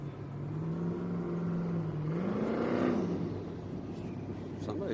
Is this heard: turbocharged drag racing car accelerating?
yes